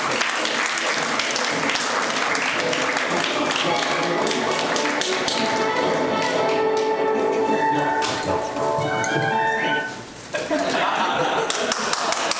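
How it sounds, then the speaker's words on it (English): An audience applauds for a speaker at a Korean War armistice anniversary ceremony in Los Angeles, a steady dense clapping that carries on loudly for several seconds, dips briefly, then resumes. "Let's give her a round of applause."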